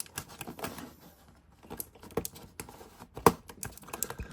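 Cute keyboard fidget keys click under fingers, irregular bursts of sharp plastic clacks, close and fairly quiet, with brief pauses between taps and one louder snap near the end.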